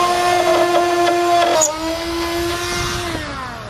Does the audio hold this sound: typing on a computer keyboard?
no